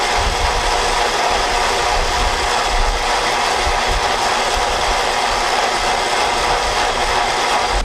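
Cable on a Warn Zeon winch being pulled quickly off the drum in freespool, a loud continuous ratcheting, clicking mechanical whir that runs unbroken throughout with no speech.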